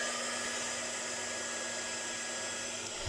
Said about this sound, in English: I'm just going to get the embossing powder on now and dry this side quickly